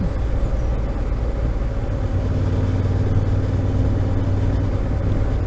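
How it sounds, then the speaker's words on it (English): A deep, throaty SC Projects aftermarket exhaust on a Honda CB750 Hornet motorcycle rumbles steadily at low revs, close and fairly loud, with no voices. "even at low revs it sounds lovely, that SC Projects exhaust"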